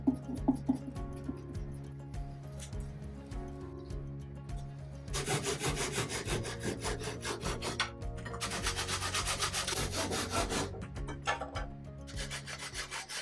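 Hand sanding a rotten wooden cupboard, with steady back-and-forth rasping strokes that grow louder and denser midway, close and alone with no talk.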